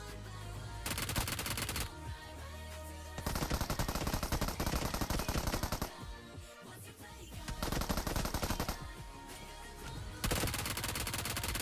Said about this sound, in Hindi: मैंने इसके ऊपर गन चलाई और उसको खत्म कर दिया